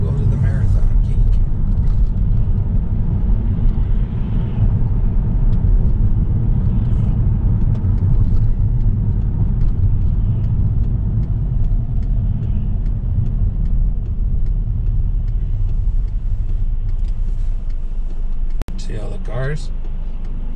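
A car drives through traffic in Ohio with a constant low road rumble and engine hum from inside the cabin. Faint passing traffic sounds are mixed in, and people talk over the drone.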